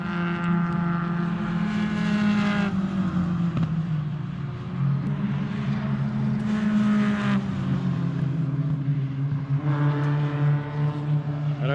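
Twin Cup race cars lap the Nogaro circuit, engines revving and shifting through gears as they pass by at moderate distance, with pitch rising and falling in repeated surges.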